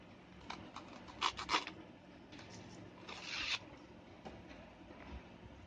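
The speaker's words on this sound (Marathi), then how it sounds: "मी हे पान कापून घेणार आहे." A leaf being cut to the size of a serving plate for a Shravan fasting thali, giving two short bursts of scraping and rustling near the middle and end, quiet and close, with faint handling noises between and no talk.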